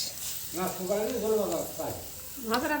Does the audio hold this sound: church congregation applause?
no